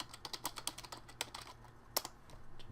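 Close, quiet typing on a computer keyboard: a quick irregular burst of clicking keystrokes with short pauses and one sharper tap near the end, heard alone without talk.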